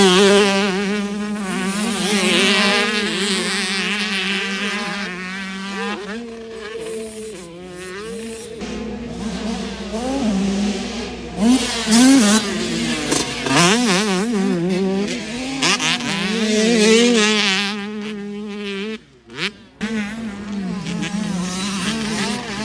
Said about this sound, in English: Vagel's bike is sounding like me after a life of racing motocross